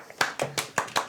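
Applause following a recited poem during a tabletop role-playing game session, five or six quick, close hand claps in a short, even burst.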